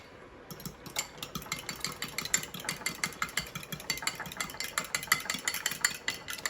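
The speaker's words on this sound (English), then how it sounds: "I'm gonna add about 1 cup of milk here. And just kind of whisk." Whisk beating milk and egg together in a bowl for macaroni and cheese, a fast steady rhythm of light clinking strokes throughout, fairly close.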